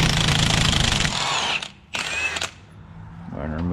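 Impact wrench loosening a 27 mm pinion nut on a rear differential with the drive shaft removed, a loud buzzing rattle for about a second and a half, a brief second burst, then a quieter mechanical whir.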